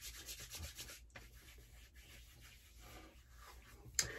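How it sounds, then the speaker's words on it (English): Shaving serum being rubbed into freshly shaved skin by hand, a soft steady rubbing and light scratching close to the mic, with a short sharp tap near the end and no talking. "you rub it in real good"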